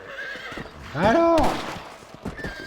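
A horse neighs loudly in a Red Dead Redemption cowboy game, a sharp whinny with falling pitch that stands above faint hoof clatter, with someone speaking briefly before and after.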